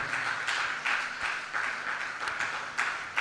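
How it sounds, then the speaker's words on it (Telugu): Congregation in a church clapping hands together in praise, a dense crowd of claps with rhythmic surges, fairly far and moderately loud, with faint background sound and no clear talk. "సంతోషంగా ఉన్నవారు ఒకసారి చప్పట్లు కొట్టి దేవుని మహిమపరుద్దాం"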